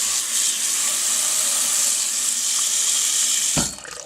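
Tap water running steadily into a pot being filled halfway for boiling artichokes, a constant hissing gush that cuts off abruptly near the end.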